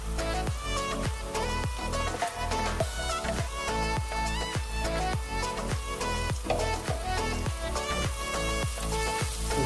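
Garlic frying hard in hot corn oil on high heat in a curry chicken and potato stew pot. A dense, steady sizzle crackles throughout with rhythmic stirring scrapes and no talk over it.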